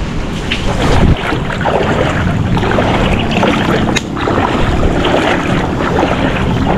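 A strong floodwater current follows Super Typhoon Uwan. A loud, steady rushing roar is heard, buffeted by gusts of wind on the microphone.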